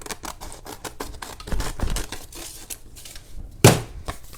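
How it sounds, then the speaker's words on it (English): Quick repeated snips of scissors cutting through paper, followed by a louder sharp clack near the end. "Let me get my scissors and cut right to the edge"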